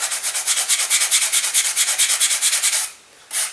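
Sandpaper rubbed back and forth over the surface of a model airplane, a close, rhythmic series of quick scratchy strokes that stops abruptly, then one more short stroke after a pause.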